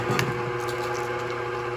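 A stand mixer with a paddle attachment churns choux pastry dough in a steady, even hum with a low drone, running alone at a moderate level.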